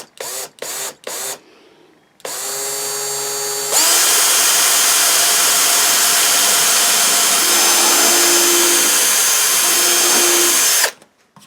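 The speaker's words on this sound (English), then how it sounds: "So we'll just drill our pilot hole here." A few brief bursts of a power drill, then a long, loud, steady whine as it bores a pilot hole into the wood of a Yamaha G55A guitar, close up, before stopping abruptly.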